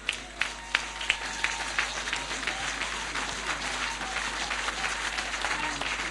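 A church congregation breaks into applause to acclaim the Lord, starting with a few distinct claps that swell into steady, dense clapping from many people and continue throughout.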